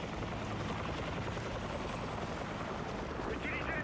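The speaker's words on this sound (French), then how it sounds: "Hélicoptère." Helicopter flying in a nocturnal raid mission of a video game, a dense continuous rotor roar held at steady loudness throughout, with no clear talk.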